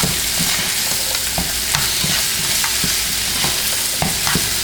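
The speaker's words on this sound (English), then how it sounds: "And then I'll add my shrimp to this." Shrimp stir-frying in a hot pan for shrimp fried rice, a loud continuous sizzle broken by repeated scraping and clacking of a utensil as they are tossed, with no talking.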